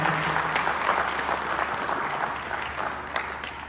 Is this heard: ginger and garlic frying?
no